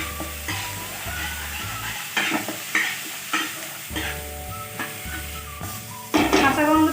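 Ginger, garlic and onion paste frying in hot oil sizzles softly while a spoon stirs and scrapes the pan in repeated strokes, with a louder sizzling burst near the end.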